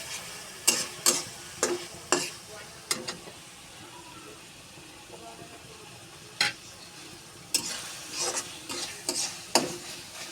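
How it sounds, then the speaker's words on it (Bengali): Beef being stir-fried in a pan with coriander powder, a soft sizzle under repeated sharp scrapes and clacks of a spatula, coming in quick clusters with a quieter stretch between. "এটাতে শুধু ধনা গুঁড়ো ইউজ করছি আর কিছু না ভালোভাবে এটাকে একটু কষিয়ে নেব"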